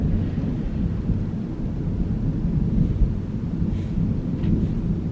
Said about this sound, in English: That is like lingering thunder.